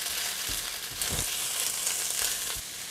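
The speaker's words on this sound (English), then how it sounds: "Now I'm going to go ahead and add the garlic. Make a little and stir." Garlic fries in a hot pan, a steady close sizzle broken by a few louder scraping stirs, with no voices.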